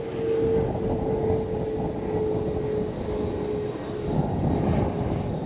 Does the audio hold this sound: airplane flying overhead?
yes